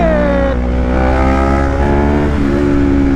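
Car engine revving hard in sports mode through heavy traffic, loud and close, with rising harmonic engine tones that climb, dip and climb again as it accelerates.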